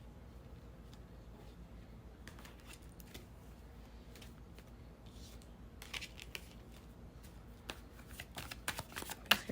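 Tarot cards shuffled by hand at close range, a quiet sequence of soft riffling flicks and papery snaps that grows busier and a little louder toward the end, no voices.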